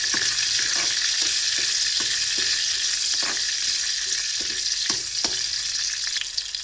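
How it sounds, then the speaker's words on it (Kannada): Green chilies fry in hot oil with a loud, dense, steady sizzle, close up, punctuated by light rhythmic ticks of stirring. "ಸೊ ನೋಡಿ, ಮೆಣಸು ಸ್ವಲ್ಪ ಫ್ರೈ ಆದರೆ ಸಾಕು"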